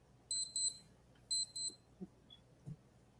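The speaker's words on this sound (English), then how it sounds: "No, that's my alarm on my watch." A wristwatch alarm beeps in two quick pairs of double high-pitched chirps, faint and close in a quiet room, followed by a few soft taps.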